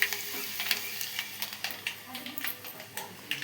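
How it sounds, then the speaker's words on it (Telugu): Hot tempering sizzling in cooked dal with greens, a steady crackling hiss close by, with a voice talking over it in Telugu. "మెత్తగా కలుపుకున్న పప్పులు అయితే తర్వాత ఇలా చుర్రు అని సౌండ్ రావాలన్నమాట పప్పు తర్వాత పెడితే"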